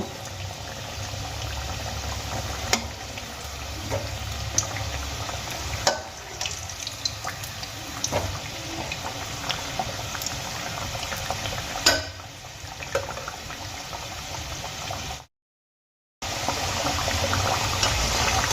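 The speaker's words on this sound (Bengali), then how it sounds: "তেলের মধ্যে কচুরিগুলি ছেড়ে দেওয়ার পর দু তিন মিনিট আমি কোনোভাবে খুন্তি বা হাতা দিয়ে নাড়াচাড়া করব না" Aloo kachuri deep-frying in hot oil, a steady close bubbling hiss with scattered small pops that runs without pause, briefly cutting out near the end.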